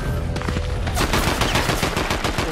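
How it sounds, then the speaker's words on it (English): Rapid automatic gunfire in a Fortnite match rattles continuously and loudly, building from scattered shots into a dense, sustained burst that fills the whole moment without any talk over it. "why is she still shooting me?"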